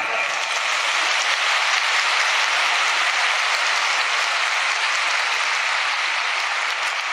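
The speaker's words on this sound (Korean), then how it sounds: "박수 한번 하세요" A large crowd at a religious mass assembly applauds in a dense, even roar of clapping that holds at a constant level from start to finish, with no voices over it.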